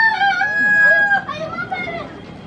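A rooster crows loudly and close by, one long drawn-out call that trails off, with faint voices in the background.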